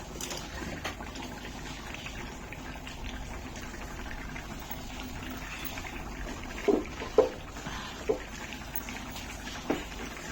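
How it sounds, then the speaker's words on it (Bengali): Water pours steadily from a large bottle of bought drinking water, used to bathe a boy at home. It makes a continuous splashing gush with a few louder splashes near the end. "বড় বোতল থেকে জল ঢেলে দেবো"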